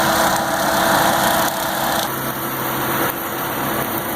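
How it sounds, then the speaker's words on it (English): Tractor-pulled mower running in very low gear for a close mow, a continuous loud engine drone with a steady high whine and slight shifts in pitch, without any voices. "We're running in a very low gear because we're doing a close mow."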